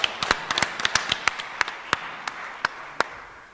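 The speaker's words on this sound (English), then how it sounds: "Mr. Ernest Minta, please give him a hand of applause." Sparse applause at a trade open house with government representatives and trade associations, a handful of distinct, sharp hand claps at an uneven pace that gradually spread apart and fade.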